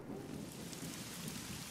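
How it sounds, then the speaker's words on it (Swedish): Heavy rain pours down with thunder rumbling through it, a dense, continuous downpour roar with deep low rolls, steady and quiet overall with no voices. "Just då börjar det regna som attan."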